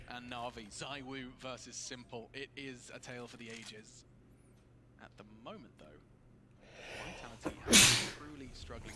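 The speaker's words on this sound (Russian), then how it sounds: "Ой, извините, мужики, чихнул." A commentator sneezes once, loudly and close to the mic, during a live Counter-Strike (CS:GO) match broadcast of Vitality vs NaVi at the IEM Katowice 2019 Major, with speech beforehand.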